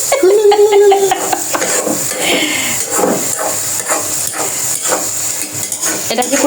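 Lentils frying in a pan for dal bhaja are stirred with a utensil, producing scraping and clattering over a soft sizzle, loud and close, with a faint voice in the background.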